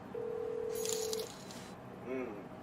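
A telephone call is placed: a steady electronic tone holds for about a second, a faint clatter of handling follows, then a brief warbling ring tone sounds, all fairly quiet and without speech.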